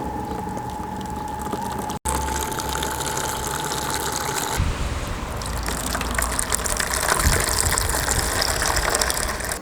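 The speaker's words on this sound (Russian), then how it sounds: "Наливаем горячую воду в контейнеры." Hot water poured from a kettle into containers for brine, a steady gushing splash that cuts off briefly, then resumes as a louder, fuller pour that deepens as the container fills.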